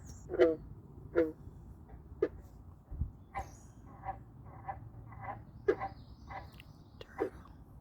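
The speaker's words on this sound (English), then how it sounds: "Frogs." Frogs croaking in short, irregular bursts, about a dozen calls spaced through a quiet outdoor background, close and moderately loud.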